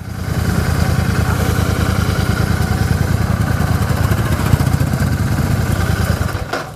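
A PR-48 motorcycle, called a pocket rocket, idles loudly and close up in first gear just before a launch, its steady rapid engine pulse running throughout and cutting off abruptly at the end.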